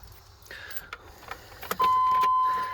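A Cummins diesel cranks and fires in a 1999 Chevy Suburban K2500, a few clunks and clicks giving way to a sudden loud, steady idle with a whining tone that settles and holds close by.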